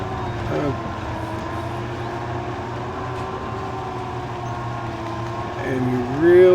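A truck engine idles and rumbles steadily in the off-road driving game Spintires, a constant low drone with a rising whine near the end as revs climb.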